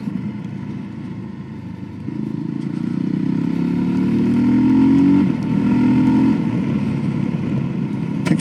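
A VOGE 300 Rally motorcycle engine pulls steadily while riding, droning loud and close, with the pitch climbing as it accelerates through the middle and a brief dip before settling back into a steady cruise.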